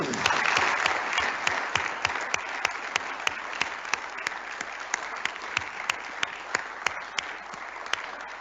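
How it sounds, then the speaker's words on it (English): An audience at the North Dakota State of the State address gives sustained applause, a broad wash of clapping with a few sharp, closer claps punctuating it at a steady pace. "Let's give all of these folks a great round of applause."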